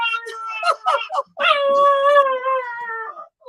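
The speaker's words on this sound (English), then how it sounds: "I apologize for the dogs" Dogs howl indoors at home, starting with short yips and whines that turn into one sustained, wavering howl, loud and close.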